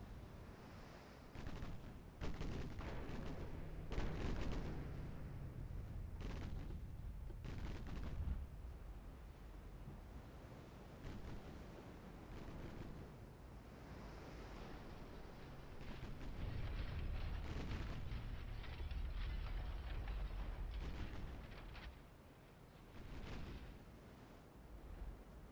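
Warship broadside gunfire in Ultimate Admiral Dreadnoughts, heard as repeated heavy booming salvos at irregular intervals over a low rumbling sea-battle background, with no talking.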